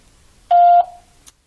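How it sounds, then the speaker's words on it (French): A single loud, clean electronic tone lasting about a third of a second marks the start of an Orange voicemail recording on a phone line, ending in quiet. "Veuillez laisser votre message après le bip."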